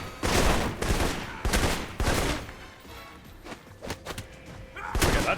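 Gunfire in the Alpha Protocol video game, a series of loud, punchy shots and short bursts spaced unevenly, with a few softer thuds between them.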